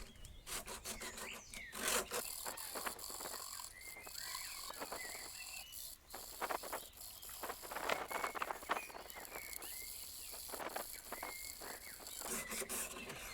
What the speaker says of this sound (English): get a bit of new sandpaper and carry on